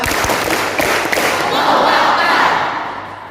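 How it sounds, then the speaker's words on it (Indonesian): An audience performs the Tepuk Darussalam clap chant at a motivational talk, a loud crowd of rhythmic claps and chanted voices filling the room, steady for several seconds then fading slightly. "Tepuk Darussalam."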